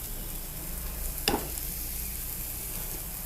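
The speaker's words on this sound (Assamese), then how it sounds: "জাতিলাওখিনি ভজা হৈ গৈছে।" Bottle gourd frying in a pan gives off a steady, even sizzle, broken by one sharp crackling burst partway through, as if the pieces were stirred or dropped in.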